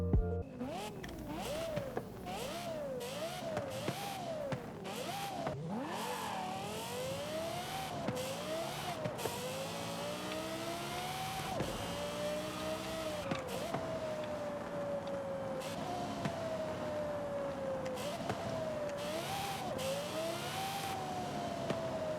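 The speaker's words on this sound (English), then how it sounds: "A lot of people regard the Lexus LFA as the best sounding car in the world" Lexus LFA V10 engine in Forza Horizon 5, revving hard through repeated rising and falling sweeps with shifts, a loud sustained high-pitched wail with a whirring intake tone, no talking.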